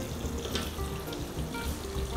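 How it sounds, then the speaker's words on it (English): Cold water is poured over drained macaroni pasta in a kitchen, giving a steady close splashing rush like a running tap into a sink, with no voices. "So drain it and then just pour cold water over it"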